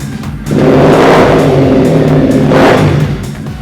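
A Triumph Bonneville motorcycle engine revs up hard, holds a loud roar, then surges again in a second rev before easing off; close and loud, with no talking.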